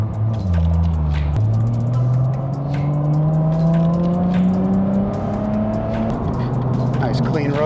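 A Nissan Skyline R33 GT-R engine hums steadily from inside the cabin, pitch rising smoothly as it accelerates through the gears, with a shift partway through.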